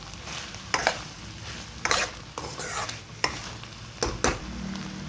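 Rice and mutton stirred together in a pot for biryani, a spoon scraping and clinking against the metal in several separate strokes over a soft sizzle, close and moderately loud, with no talking.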